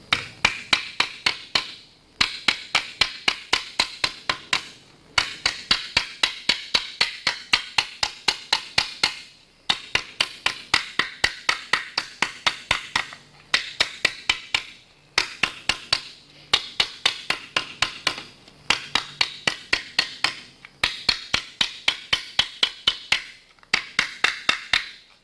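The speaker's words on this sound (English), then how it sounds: "I'm going to use this small nylon hammer, and I'm just going to planish this out a bit" A small nylon hammer planishes sheet metal in quick, even bursts of sharp taps, each run of a dozen or so blows separated by brief pauses, loud and close.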